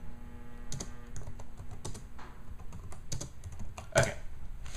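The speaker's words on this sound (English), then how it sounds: "I was just typing stuff" Steady clatter of keys on a computer keyboard, irregular bursts of tapping close by with a faint background hum, no voices.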